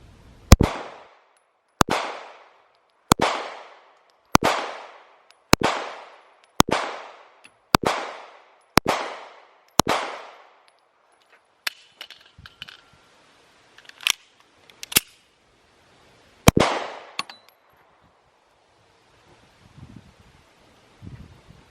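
Smith & Wesson Shield pistol fired at targets, a rapid string of about ten sharp, loud shots in steady rhythm, followed by a few scattered quieter clicks and knocks, then one more crack and fading ambient noise.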